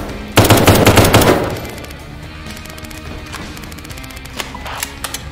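Bursts of rapid gunfire from guns in the horror video game Kinki Spiritual Affairs Bureau, a loud dense volley over the first second, then a quieter tail with a few scattered sharp shots near the end.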